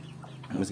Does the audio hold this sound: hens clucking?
yes